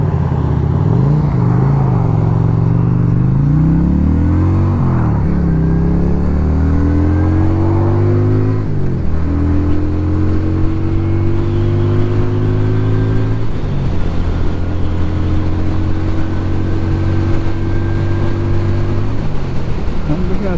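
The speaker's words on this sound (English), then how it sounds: "Well, it's that motor rumble." A Lifan Lycan 250 motorcycle rumbles steadily while riding in chilly weather, its engine note rising through gears with brief dips at each shift, loud and close throughout.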